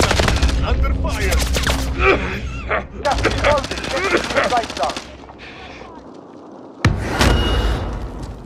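Heavy automatic gunfire in a tactical shooter game, long loud bursts of rapid shots with short pauses, a quieter lull, then a final sharp burst, with voices calling out between them.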